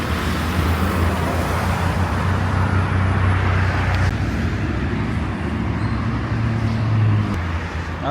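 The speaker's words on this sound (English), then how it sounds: "All right, here's the bus." A Tuzo city bus pulls up at a stop in Pachuca, Mexico, its steady low engine drone blending with continuous nearby street traffic noise for the whole stretch, with no voices.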